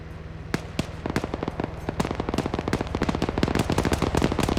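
Dense gunfire barrage in the military shooter Arma 3, rapid overlapping bursts of shots crackling almost continuously and building in intensity, loud and close with no talking.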